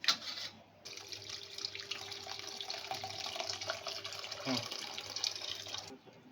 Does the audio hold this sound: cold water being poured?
yes